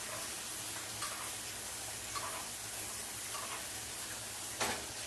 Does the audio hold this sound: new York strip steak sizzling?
yes